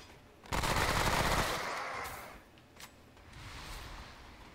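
Automatic gunfire from an out-of-control gun in the shooter game Remnant: From The Ashes, a loud dense burst of rapid shots that tapers into lighter scattered fire and rumble.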